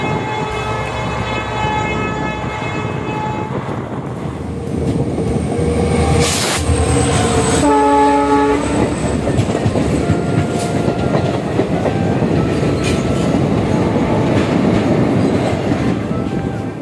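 A long-distance passenger train between Azimganj and Guwahati runs on its rails with a loud, steady rumble and rattle throughout, joined midway by brief tonal horn or siren notes.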